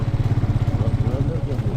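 A motorcycle engine runs with a steady, rapid low throb close by, with a voice talking over it.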